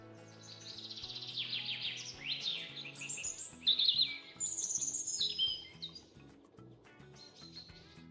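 Bird chirping near its nest, a run of bright, rapid tweets and trills rising and falling over several seconds, heard over soft background music.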